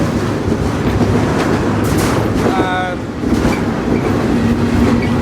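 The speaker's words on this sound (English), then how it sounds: "There's definitely going to be a need to get off this train before it pulls into whatever yard it's going to in Chicago" Freight train rolling toward Chicago out of Gary, Indiana at sunrise, a loud continuous rumble of wheels and rattling cars heard from aboard, with brief squeals and clanks over the steady roar.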